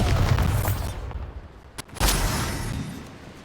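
A Bombarda blast spell in Hogwarts Legacy goes off amid ongoing combat rumble, one sharp booming explosion with a sudden loud onset, then a rolling decay.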